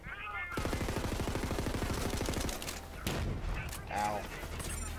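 Rapid automatic gunfire in Borderlands 3 rattles off in a fast, even burst for about two seconds, followed by a few scattered shots, with someone talking over parts of it.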